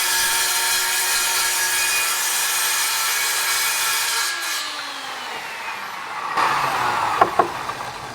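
Wooden furring strips are ripped with a power saw in a makeshift shop space, a steady broadband whine running for about six seconds before slowing and dropping off, followed by a few sharp knocks near the end.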